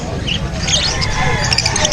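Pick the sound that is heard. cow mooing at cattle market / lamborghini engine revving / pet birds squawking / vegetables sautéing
pet birds squawking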